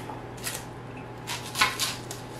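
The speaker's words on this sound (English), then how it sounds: "Now I'm going to cut my onion." A knife slices through an onion being cut into rings on a board, a few crisp, close chopping crunches in short bursts over a quiet steady hum.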